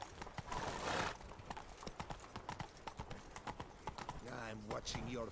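Horse hooves clip-clop at a steady galloping rhythm in a video game, close and continuous, with a neigh near the end and a voice talking over the hoofbeats.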